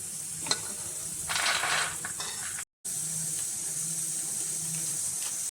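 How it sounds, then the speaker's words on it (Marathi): Seeds dry-roasting in a pan for a dry fruit protein powder, a soft steady crackle with scraping and rattling stirs, cut by a brief silent gap near the middle. "बी आपण थोडं थोडं भाजून घेऊ"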